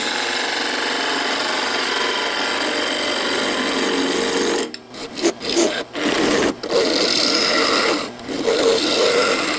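Spindle gouge cutting a wooden bowl on a spinning lathe, a steady rasping scrape that breaks into several short gaps and bursts midway as the tool lifts and catches where the grain changes; no voices.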